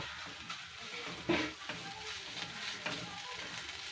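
Ginger and garlic paste frying with onions in a pan for a chicken stew, a steady close sizzle with soft crackles and one brief louder stir or clatter partway through.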